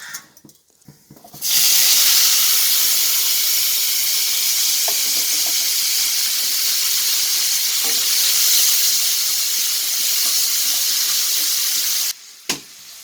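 Fenugreek seeds hit hot oil for a Nagara fish curry and set off a loud, steady, close sizzle. The hissing runs unbroken for about ten seconds, then cuts off abruptly.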